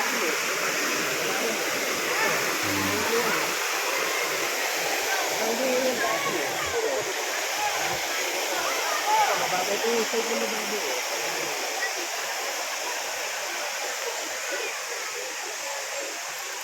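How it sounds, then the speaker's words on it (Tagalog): Daranak Falls roars in a steady, loud, hissing rush that fills the whole stretch without a break. "Malakas ang tubig oh."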